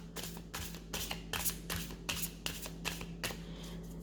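Tarot cards shuffled by hand before a reading, a run of quick papery riffles and flicks repeating in short bursts, close and quiet with nothing else heard.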